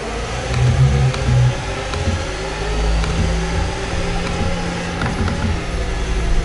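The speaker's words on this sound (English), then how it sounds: "That was not the Ferrari launch we've usually been seeing." A Ferrari racing car launching off the line at a race start, its engine droning and revving with a steady mid-pitched roar, other cars' engines blending underneath, loud and continuous with no voices.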